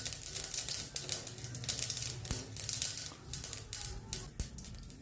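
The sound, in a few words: mustard and cumin seeds crackling in hot oil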